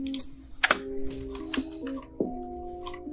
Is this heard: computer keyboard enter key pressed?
yes